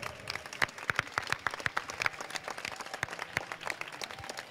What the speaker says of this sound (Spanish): os pido un muy fuerte aplauso para los participantes y para Javi